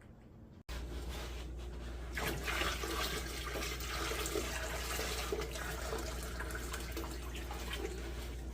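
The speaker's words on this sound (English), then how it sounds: "now we just need to start dumping a bunch of hot tap water in here" Hot tap water gushes steadily from a faucet into a metal canner after a brief quiet start, a loud, continuous splashing rush that holds unbroken throughout with no voices.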